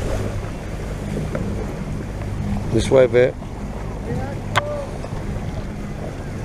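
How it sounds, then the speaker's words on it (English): A small motorboat pushes through choppy water under constant wind buffeting the microphone. A person briefly gives directions partway through. "That's it, you've got to fight the waves."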